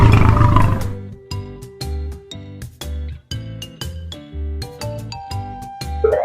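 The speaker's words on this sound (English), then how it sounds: "Here comes the king of jungle, the lion." A lion's roar bursts out loud at the start, then gives way to a rhythmic, chiming children's tune of repeated tones that carries on to the end.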